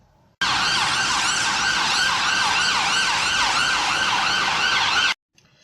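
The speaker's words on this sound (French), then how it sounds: "Je vais essayer de vous trouver un son d'ambulance et de policiers pour que vous puissiez écouter ça." A loud electronic ambulance and police siren in England wails in a rapid repeating rise-and-fall pattern, starting abruptly and cutting off after about five seconds.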